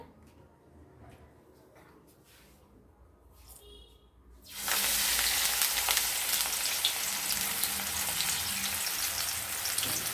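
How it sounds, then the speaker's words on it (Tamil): Banana flower vadai dough hits hot oil and breaks into a loud, continuous sizzle that holds steady after a quieter start. "நல்லா பொரியட்டும்."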